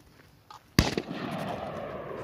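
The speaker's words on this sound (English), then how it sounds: "So right away, I took 4 shots" A real gun is fired at an outdoor range, one loud, sharp close report followed by a quick second crack and a long, rumbling echo that lingers.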